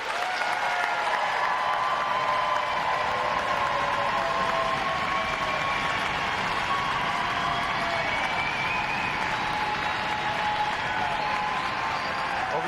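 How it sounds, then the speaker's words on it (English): Sustained applause from a large crowd at a Navy recruit graduation ceremony, steady dense clapping that holds at an even level throughout with some cheering mixed in. "give them a big round of applause"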